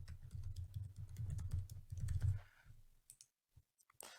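Rapid keystrokes on a computer keyboard clatter steadily at close range for a few seconds, then thin out into a handful of isolated clicks and taps.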